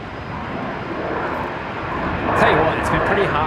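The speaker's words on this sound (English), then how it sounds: "That was a loud reverse thrust." Rex regional airliner landing at Brisbane, a steady broadband jet roar that swells loudly with reverse thrust toward the end, with a voice talking over it.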